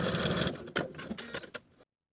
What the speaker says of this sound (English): Then I'll stitch horizontally with the 5/8 inch seam allowance through the dot